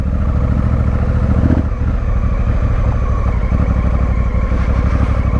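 A Honda Africa Twin rolls downhill off-road on engine braking, its engine giving a continuous loud, throbbing rumble with a slight drop in pitch partway through.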